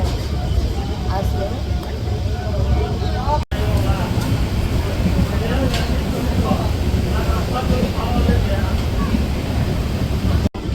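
A steady low rumble fills a moving, nearly empty train carriage, with a continuous rattle and hum and two brief dropouts.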